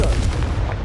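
A fiery Confringo spell blast erupts in a Wizarding World video game, a single loud, dense burst with a booming low rumble that fills the whole short moment.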